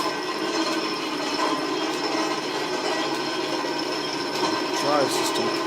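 A Drummond type M lathe runs on its motor drive, giving a steady mechanical whir with a fine ticking, ratchet-like rattle of gears. The sound is close and continuous, with no talking.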